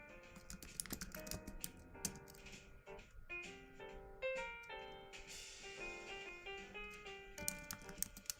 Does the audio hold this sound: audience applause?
no